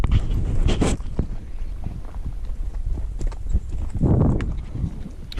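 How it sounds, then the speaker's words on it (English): Horses walk a wilderness trail under packs and riders, their hooves clip-clopping in an irregular close rhythm with occasional louder thuds. "constantly monitoring these horses as you're going down the trail"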